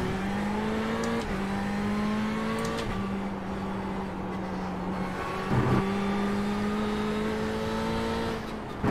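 Ferrari 488 GTE racing at Laguna Seca in iRacing, a loud sustained engine note that rises in pitch under acceleration and drops through gear shifts and braking, with no talking.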